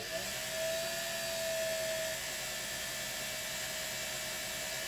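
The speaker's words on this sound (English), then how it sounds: "It'll just turn the bobbin winder." A Singer 401A sewing machine winds a bobbin, its motor giving a steady, continuous whir with a faint high whine that holds evenly throughout, with no talking.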